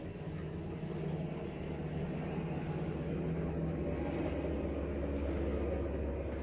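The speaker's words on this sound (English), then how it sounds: "It's a helicopter." A helicopter passes overhead near an Air Force base, a steady low rotor and engine rumble that holds at an even, moderate level throughout with no talk.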